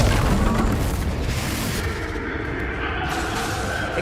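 Explosive spell cast in Hogwarts Legacy, a loud booming blast at the start followed by a rumbling, crackling tail that slowly thins out.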